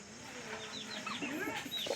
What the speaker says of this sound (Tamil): ஒரு கோழி வீட்டுக்குள்ள போகுது.